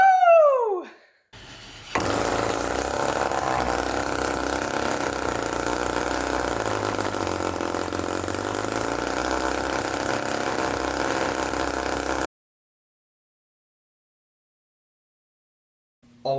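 A homemade internal combustion engine built from an old compressor idles with a loud, steady, rough drone for about ten seconds, then cuts off abruptly into silence.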